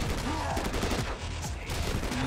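Gunfire in the video game Madness: Project Nexus, a dense, loud burst of shots over a constant busy game soundscape, with no pauses.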